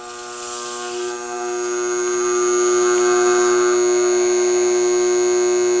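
Treadmill motor driving an 8-frame honey extractor, a steady electric whine with strong tonal hum that rises and swells in power over the first few seconds, then holds loud and sustained, no talking.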